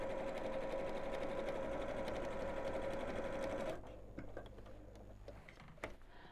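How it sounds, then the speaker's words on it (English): Sewing machine running straight seams, a fast steady mechanical hum with fine ticking for several seconds, then stopping, leaving faint clicks and handling sounds. "Straight lines being sewn here."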